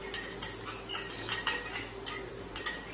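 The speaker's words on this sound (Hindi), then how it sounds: "प्याज ब्राउन करने के बाद अब हमने इसमें लहसुन ऐड कर देना है" Garlic stirred into browned onions in a metal cooking pot for chicken pulao, with repeated clinks and scrapes of a spoon against the pot over a constant low background hiss, and no talk.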